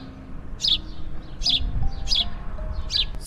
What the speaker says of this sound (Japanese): めちゃスズメじゃない？